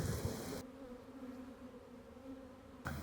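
A pollen-laden honeybee returns to its hive in Mauritius with a faint, steady, close-up buzz that holds an even drone throughout.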